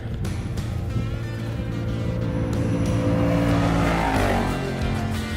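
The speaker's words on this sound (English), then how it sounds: "This truck sounds mean coming at us." An off-road race truck in the Baja Nevada desert race charges toward the listener, its engine roaring and rising in pitch as it closes in, loud and growing nearer, with no talk over it.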